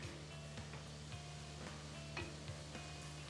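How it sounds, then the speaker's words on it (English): Food sautéing in a pan for a cowboy chuckwagon meal, a soft steady sizzle with a faint hum and light scraping taps of stirring throughout, fairly quiet and with no talking. "Let's just saute those a little bit more."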